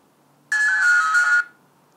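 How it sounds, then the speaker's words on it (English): An Elephone REXSO Explorer K action camera plays its power-on tone, a single loud electronic chime lasting about a second, clear and close against near silence. "please get rid of that turn on sound"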